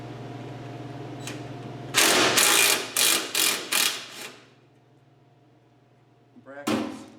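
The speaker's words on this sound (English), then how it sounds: "And so now I'm ripping out these mounting bolts." A ratchet wrench backing out mounting bolts under a 1967 Ford Mustang during fuel line replacement, a run of quick loud ratcheting bursts, then quiet, then one more short burst, close by over a low background hum.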